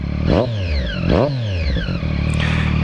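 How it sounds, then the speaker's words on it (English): A 2014 Triumph Daytona 675R motorcycle exhaust is blipped twice in sharp revs that rise and fall quickly, then settles back to a close, steady idle. "the exhaust sounds pretty good"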